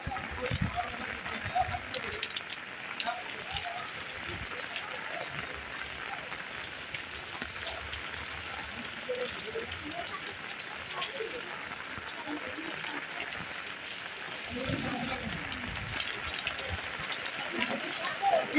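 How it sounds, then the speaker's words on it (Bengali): Heavy rain falling steadily during a downpour that flooded a house, a dense continuous patter on surfaces close by, with someone talking over it throughout. "বৃষ্টি তো হইতেই আছে বৃষ্টির কোনো কমতি নাই"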